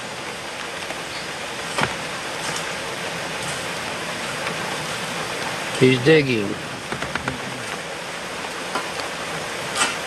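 Steady rain pours outdoors over a house rebuilding site with open footing excavations, a constant wash of hiss throughout, with a brief voice and a few knocks partway through.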